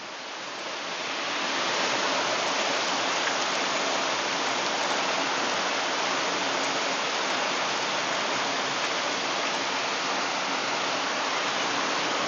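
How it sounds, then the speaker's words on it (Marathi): Heavy monsoon rain pours steadily in Pune in a dense, continuous roar, loud and close, with no voices. "पहा या ठिकाणी पाऊस किती जोरात आहे"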